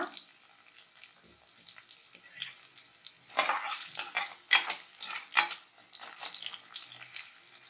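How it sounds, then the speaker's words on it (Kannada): Sliced onion dropped into hot oil for a Kannada chicken gravy, quiet at first, then bursts into loud crackling sizzle with a few scrapes and clinks of a utensil against the pan. "ಈಗ ಇದಕ್ಕೆ ನಾನು 1 ಈರುಳ್ಳಿ ಕಟ್ ಮಾಡಿದ್ದೀನಿ, ಉದ್ದಕ್ಕೆ ಹಾಕೊಳ್ಳೋಣ. ಇದು ಚೆನ್ನಾಗಿ ಫ್ರೈ ಮಾಡ್ಕೊಳ್ಳೋಣ."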